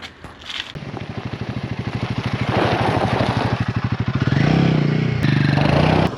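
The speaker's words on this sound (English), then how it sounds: "I'm testing the Shinkos on my Royal Enfield Himalayan 450 on one of my local logging roads" Royal Enfield Himalayan 450 motorcycle riding on a logging road, its single-cylinder engine thumping steadily and close, the revs rising with a brief lift midway and building again toward the end.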